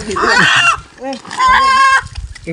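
A rooster being caught, letting out loud, close agitated clucks and squawks in bursts, with a voice briefly mixed in near the end.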